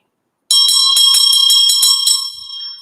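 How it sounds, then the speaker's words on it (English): A Tibetan meditation bell is struck once, giving a clear, bright metallic ring that sustains with a shimmering, pulsing decay in a quiet room. "they would be using the bell occasionally."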